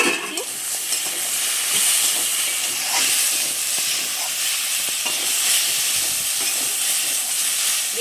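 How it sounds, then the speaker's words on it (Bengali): Pieces of pointed gourd (potol), each cut into four, fry in a pan with a steady, close sizzling hiss while the pieces are stirred, giving soft scraping clatters throughout. No one speaks. "এভাবে একটু নেড়ে চেড়ে ভালোভাবে ভেজে নিচ্ছি।"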